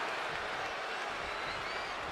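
A wrestling arena crowd in WWE 2K24 roars steadily with applause and cheering, a dense, loud wash of noise that fills the whole moment without a break.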